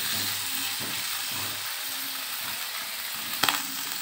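Finely chopped chicken frying in a pan for Maggi noodles, a continuous close hiss and sizzle with soft stirring movements and a brief sharp clatter near the end.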